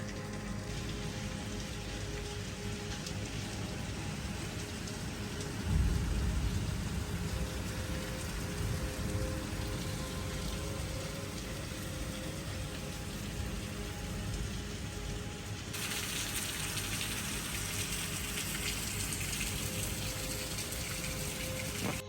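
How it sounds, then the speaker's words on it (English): Heavy tropical rainstorm on Koh Samui, Thailand, a dense, unbroken roar of rain pounding surfaces close by, steady and loud throughout with a brief gust-like swell partway and no talking. "Oh, we have a storm, a big time storm going on."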